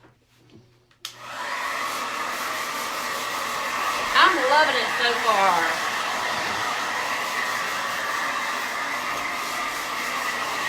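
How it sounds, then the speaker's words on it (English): A blow dryer switches on with a click and blows dust off a wooden sign, giving a loud, steady whooshing hum that continues to the end while someone briefly speaks over it. "Let me get the blow dryer real quick and let's get the dust off of it."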